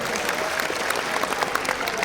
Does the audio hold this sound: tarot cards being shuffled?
no